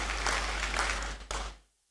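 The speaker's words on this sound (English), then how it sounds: "Please, a round of applause for our Vice Chancellor." Audience applause at a university graduation congregation ceremony in a great hall, a full wash of clapping that holds steady and then fades out quickly.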